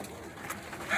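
Birmingham Roller pigeons cooing in a short, soft burst with faint background noise, the calls swelling slightly louder near the end.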